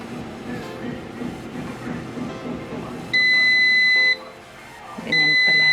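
Background chatter and kitchen noise, then a 5.5-litre air fryer's loud steady electronic beep lasting about a second, a pause, and a second beep starting near the end.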